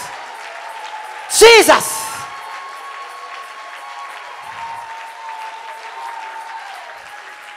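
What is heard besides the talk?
audience applauding and cheering at church service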